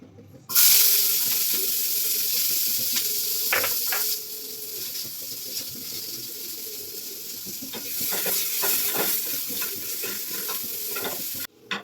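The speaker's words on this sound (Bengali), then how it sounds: "এবার আমরা পেঁয়াজটা ভেজে নেব।" Onions frying in a pan, a steady bright sizzle running for several seconds with scattered stirring scrapes and clinks, fairly close, no voices.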